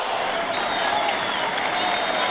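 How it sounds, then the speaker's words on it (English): A stadium crowd at a football match involving Brazil, just before half-time, roars and cheers in a dense, steady wall of noise for the whole stretch, loud and unbroken. "Huge cheer."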